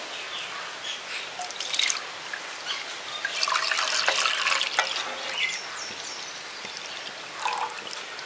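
Cow's milk poured into a hot kadai on a gas stove while making village-style rabri, a close, continuous liquid trickle with splashing drips for several seconds, no talking.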